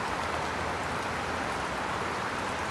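Heavy rain pouring steadily on a street near Haeundae lined with cherry blossoms, a dense, even hiss of falling water close by with no breaks.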